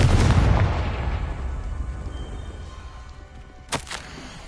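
A Confringo fire spell in Hogwarts Legacy bursts with a heavy, booming blast that rumbles and fades, followed by a second, sharper crack a few seconds later.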